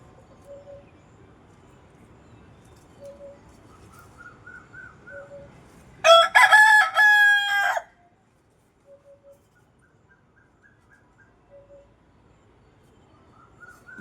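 A native rooster crows once loudly and close by for about two seconds, its harmonic call rising then holding, set among faint, scattered clucks and chirps from other fowl before and after.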